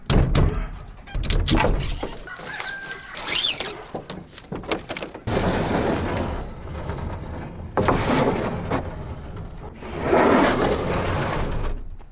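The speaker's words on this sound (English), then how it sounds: "I need to unload all this lumber into the shop." White oak lumber being unloaded into a woodworking shop, heavy wooden thunks and clatters in irregular bursts with scraping and sliding between them, loud and close with no talking.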